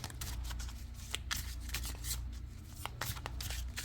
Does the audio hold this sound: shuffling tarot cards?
yes